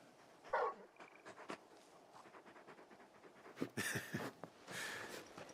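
A large dog in Final Fantasy XVI panting and giving a few short barks and whimpers, close up and alone amid soft game ambience.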